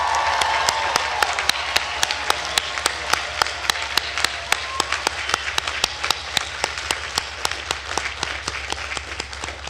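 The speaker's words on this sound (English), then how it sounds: "Please join me in giving a round of applause for these dedicated young researchers." A round of applause at a natural sciences commencement ceremony, a sustained crowd of many hands clapping with crisp, regular claps poking through, fairly close and continuous throughout.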